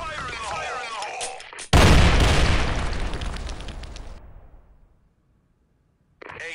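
A grenade blast in an online shooter game breaks through radio-style voice chat, a loud booming burst with a long rumbling decay that dies into near silence before talk resumes.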